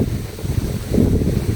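Strong wind buffets the microphone on a mountain after rain, a steady low rushing roar with gusty swells and no other sounds.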